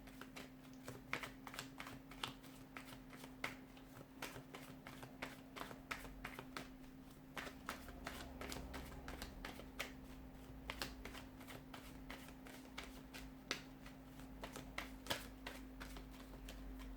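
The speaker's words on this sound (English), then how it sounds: "let's give the cards a shuffle and begin" Rapid flurries of tarot card shuffling, crisp riffling clicks repeating in quick bursts close up, over a faint steady hum.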